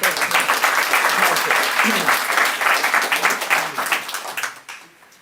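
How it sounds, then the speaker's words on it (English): Parliamentarians from fifteen countries applaud together at a convention on Tibet, a dense, loud wash of clapping that holds steady for several seconds before fading out near the end. "Give yourselves an applause for coming here."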